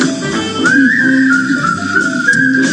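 A person whistles a short, wavering melodic tune, clear and close, with sliding pitch and a few held notes over a faint background, lasting under three seconds.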